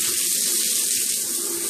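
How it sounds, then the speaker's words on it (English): Water sprays hard from a solid brass Speakman Venice adjustable shower head, a steady, close, even hiss with no pauses and no voices. "to a different spray so you can get it exactly where you want it in this solid brass shower head."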